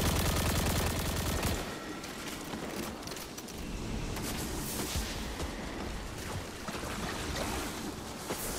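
Rapid gunfire in the shooter Destiny 2: a loud burst at the start, then sustained crackling shots and scattered blasts over a rushing, watery game ambience.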